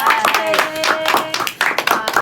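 An audience claps at a student council podcast recording featuring the outgoing school council president, a short burst of hand claps heard under and between continuing talk and voices.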